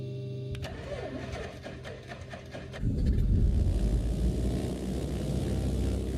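Turboprop engines of an ATR 72-600 in Microsoft Flight Simulator 2024 spooling up, a steady whine that swells into a louder, rumbling roar about halfway through and then holds, with faint clicks early on.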